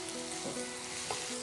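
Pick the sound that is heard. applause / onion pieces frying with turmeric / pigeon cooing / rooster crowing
onion pieces frying with turmeric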